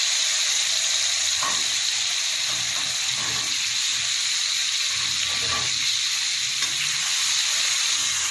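Garlic sizzling in hot oil in a wok with black cumin and dried red chillies, a steady loud hiss of frying with faint clinks of stirring throughout.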